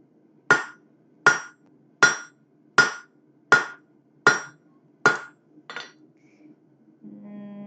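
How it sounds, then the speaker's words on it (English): A blacksmith hammers hot metal on the horn of an anvil: eight sharp, ringing blows at an even, unhurried pace, each loud and close with a short metallic decay, fading weaker at the end. "we're going to start using the horn of the anvil to kind of reduce that a lot quicker"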